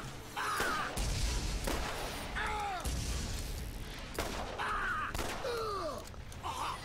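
Bursts of gunfire from a Borderlands battle on Trashy Coast, several loud shot volleys broken by short pauses, with whistling, swooping game effects in between and no talk over them.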